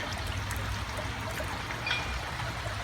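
Water trickles and splashes softly in a garden pond feature, a faint continuous gurgle heard from a little distance with no voices.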